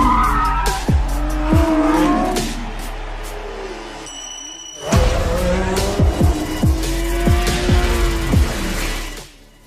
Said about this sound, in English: Those are car sounds with, electronic soundtrack.